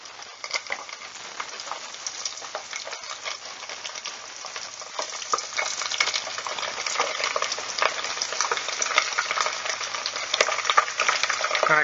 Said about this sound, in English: just dip them into the oil, get them cooking